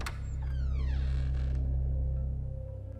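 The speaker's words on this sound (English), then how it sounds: "and he opened the door." An old door creaks slowly open in a horror story setting, a drawn-out rising-and-falling groan over a steady low hum, loud and close, fading as the swing ends.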